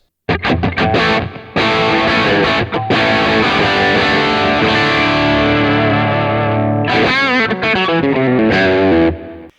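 Crunchy, overdriven electric guitar opens with quick staccato stabs, then holds long distorted chords, finishing with a bending, wavering riff.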